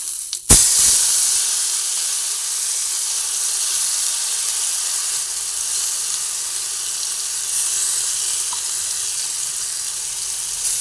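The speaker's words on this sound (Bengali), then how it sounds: "যে পেস্টটা আমি রেডি করেছি সেটা এক এক করে এর মধ্যে ঢেলে দিচ্ছি" Spice paste sizzles steadily in hot oil, with bay leaf in the pan, for a Bengali chili egg curry. A sharp splash starts it, then a constant loud hiss runs alone with no talk.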